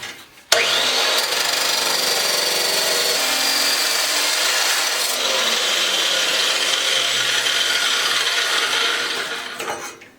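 A saw grinds steadily through steel pipe for a log arch hauler build, a loud continuous harsh rasping cut that starts abruptly, holds for about nine seconds, and fades out at the end, with no talking.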